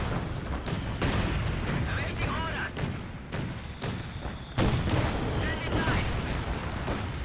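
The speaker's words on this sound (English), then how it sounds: "Another suppressing barrage coming back onto the mortar half track" Artillery barrage in the game Company of Heroes 2, with suppressing and incendiary shells landing near a mortar half-track; repeated heavy booms and blasts strike in loud succession over battle noise, with sharper impacts near the middle and later.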